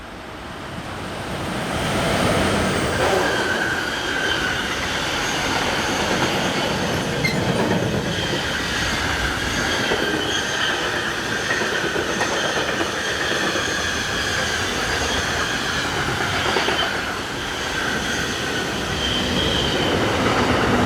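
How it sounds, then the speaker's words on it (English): An Re 6/6 electric locomotive hauls a mixed freight train from Zurich to Basel over a summit on the line. The train rolls past loud and steady with wheel squeal and rhythmic clatter of wagons for about twenty seconds. "RE66, number 620075, is in charge of train 60110, a mixed freight from Zurich's Limmatal yard to Basel, seen here cresting the 481-metre high summit of the line."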